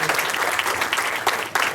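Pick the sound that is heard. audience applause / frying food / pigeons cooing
audience applause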